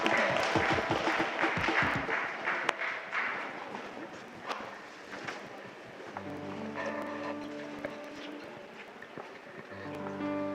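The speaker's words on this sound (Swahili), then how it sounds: "Wapigieni makofi." Clapping from a church congregation at an ordination service, a dense patter of many hands for a couple of seconds that fades under a sustained musical tone and background voices.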